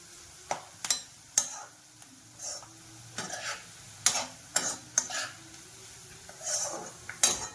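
Onion frying in a pan for Maharashtrian kala masala, a faint continuous sizzle broken by sharp clinks and scrapes of a spatula stirring against the metal, no speech.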